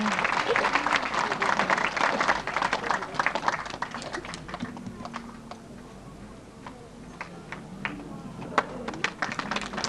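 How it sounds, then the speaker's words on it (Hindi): Loud welcoming applause at a religious gathering as a guru is garlanded, dense clapping at first that thins into scattered individual claps, with voices murmuring underneath. "जोरदार तालियों से स्वागत"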